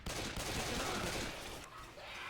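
Gunfire in the video game Left 4 Dead 2 rattles as a dense, rapid burst of shots, fairly faint under the game's background noise.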